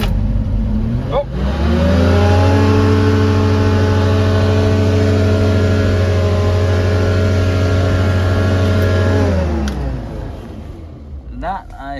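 An old car's engine, bought unseen from an online auction, revs up loudly and holds a sustained high drone for several seconds before dropping back, heard close by with no talk over it.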